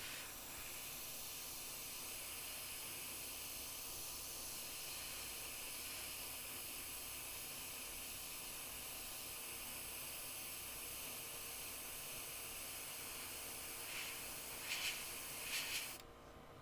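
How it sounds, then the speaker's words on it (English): Steady spray-gun hiss while a Harley-Davidson part is painted, a continuous broadband rush held for many seconds with a few brief bursts near the end, no talking. "So I know that seems like I just sprayed over the whole thing."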